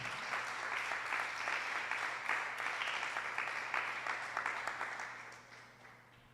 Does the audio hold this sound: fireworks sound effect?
no